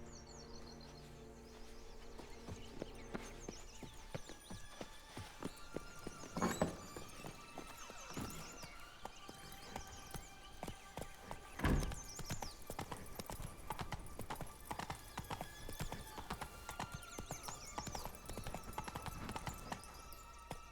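Geralt's horse Roach trotting in The Witcher 3: Blood and Wine, with a steady rhythmic clip-clop of hooves, a brief whinny and faint birdsong over soft game ambience.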